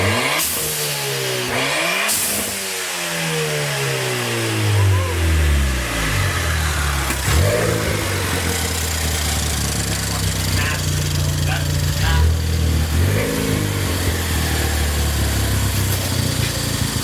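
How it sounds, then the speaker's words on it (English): A Ford Fiesta engine revs repeatedly with the car stationary, rising and falling in pitch through several loud pulls, heating the exhaust manifold, with a person talking over it. "we're revving up the car, heating up the exhaust manifold so the nuts come off easier"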